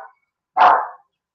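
A dog gives a single short, sharp bark close by, with silence before and after.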